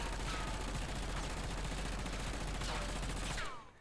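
Sustained rapid automatic fire from an XM4 assault rifle in Black Ops 6, sixty rounds in one continuous loud burst lasting several seconds, then cutting off abruptly at the end.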